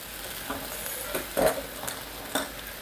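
Pork and Chinese broccoli (gai lan) being stirred in a frying pan, with a steady sizzle beneath a few distinct scraping strokes of the spatula.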